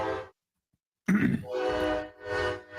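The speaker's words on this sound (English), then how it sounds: "Yeah, you hear the train." A train horn sounds briefly, cuts off, then blasts again in long sustained tones as the train passes, moderately loud and somewhat distant.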